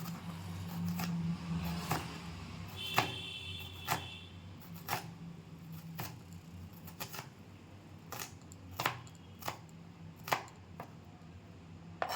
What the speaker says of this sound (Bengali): এখানে একটু পেঁয়াজ কুচিয়ে নিচ্ছি